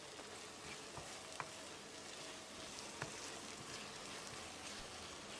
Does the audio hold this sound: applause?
no